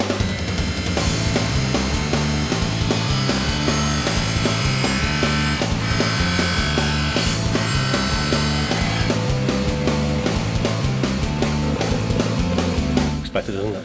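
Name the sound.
dental lab model trimmer trimming a denture model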